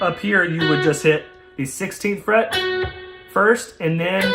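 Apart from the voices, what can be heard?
None of the usual background noises is heard.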